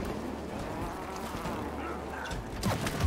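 A bee in the co-op video game It Takes Two gives off a continuous insect-like buzz at moderate volume, steady throughout with a slight swell near the end, over a busy game soundscape.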